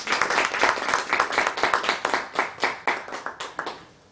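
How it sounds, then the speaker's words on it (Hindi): An audience at a Ranchi literary event claps to welcome a guest, a lively burst of close applause with distinct hand claps that keeps a pulsing rhythm before tapering off at the end. "एक बार तालियों के साथ इनका स्वागत करना"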